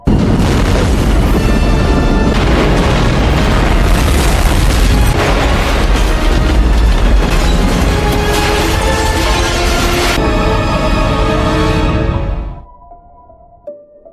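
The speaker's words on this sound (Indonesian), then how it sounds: "Pesawat itu menabrak fasilitas dan meledak." A helicopter crashes into a facility and explodes: a sustained, loud roaring blast and rumbling debris running continuously for about twelve seconds before cutting off abruptly, leaving faint residual noise.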